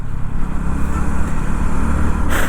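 A KTM Duke 160 motorcycle engine pulls continuously on the road, a loud, buzzing, slightly fluttering note that rises and falls gently, with a brief brighter burst at the end.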